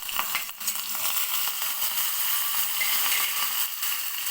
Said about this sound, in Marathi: हिरवी मिरची कट करून घेतलेली आहे उभी आणि कढीपत्ता घेतलेला आहे तो सुद्धा मी या तडक्यामध्ये टाकून